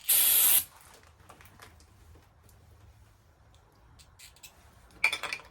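A short, loud aerosol burst of brake parts cleaner sprayed onto a 14-year-old Briggs and Stratton generator that sat unused for over five years, a single hiss lasting about half a second, then quiet handling noises and a brief clatter near the end.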